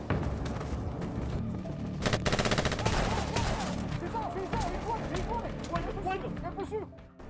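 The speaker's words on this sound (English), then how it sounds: "Jake is now engaged in gunfire with a group of bad guys led by Stone." A movie shootout between Jake and a gang of bad guys led by Stone, with repeated sharp bursts of gunfire mixed with voices and other action sounds.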